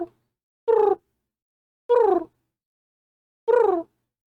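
A human voice imitates a pigeon with three short, separate cooing calls spaced about a second apart, close and clear against silence.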